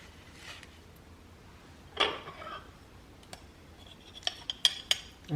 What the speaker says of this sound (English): So I'm just going to cut it, and it slices very easily.